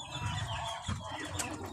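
Backyard flock of hens and fighting roosters being fed, with close, continuous soft clucking and low coos running through the whole short stretch.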